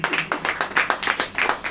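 An audience claps in a brief, fairly quiet burst of rhythmic applause, each clap sharp and evenly spaced.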